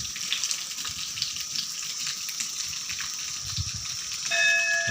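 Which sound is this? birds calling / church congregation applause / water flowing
water flowing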